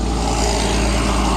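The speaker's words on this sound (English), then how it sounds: "noisy vacuum truck." Steady, loud engine drone from a large vacuum truck runs without a break, a low continuous rumble with broadband noise and no voices.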